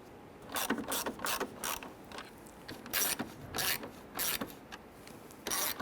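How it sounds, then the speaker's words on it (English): Ratchet tightening screws across the broken header panel of a 1999-2004 Jeep Grand Cherokee, a series of quick clicking bursts repeating in an uneven rhythm, close and fairly loud. "So we're installing 4 screws across the top."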